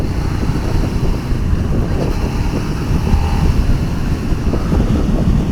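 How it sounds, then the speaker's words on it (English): Heavy, steady wind roar buffeting the microphone while riding a Suzuki SV 650 naked motorcycle, a loud continuous rush with the engine buried underneath and no talking. "I got a lot of wind flow because of it's a naked bike obviously"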